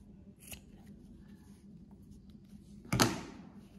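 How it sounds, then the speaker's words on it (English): Scissors snip through crochet yarn tassels on a heart keychain, one faint cut early and a sharper close snip near the end over quiet room sound. "simply have your scissors and cut here this tassel from the bottom"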